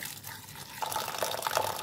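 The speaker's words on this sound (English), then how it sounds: "That's why I'm soaking it in cold water from the tap." Cold tap water pours over dried abacha (shredded cassava) in a bowl, a close steady splashing stream that grows fuller and more bubbly as the level rises.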